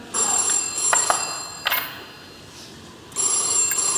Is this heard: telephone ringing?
yes